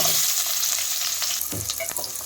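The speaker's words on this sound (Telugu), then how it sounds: "ఆనియన్స్ని మంచిగా ఫ్రై చేసుకోవాలి" Onions fry in hot oil in a pan, producing a dense, close sizzle and crackle with a few stirring scrapes near the end.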